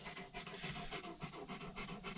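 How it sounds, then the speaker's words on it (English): A Sarplaninac-Anatolian mix livestock guardian dog pants steadily in quick, even breaths, close by and soft, with no talking. "We needed a livestock guardian dog."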